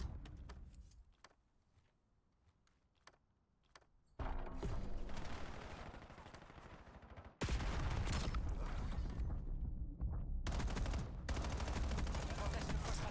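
Gunfire fills a Call of Duty Black Ops 7 match, with sporadic single shots at first, then dense, loud bursts of automatic fire and explosions that continue almost without a break.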